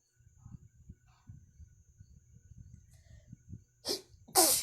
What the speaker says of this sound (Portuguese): Ai, vou espirrar.